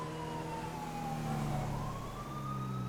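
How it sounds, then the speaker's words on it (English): Emergency siren in GTA 5 wails steadily for the whole stretch, a continuous rising and falling tone over a low engine rumble, fairly loud and close with no talking. "I hear residual siren."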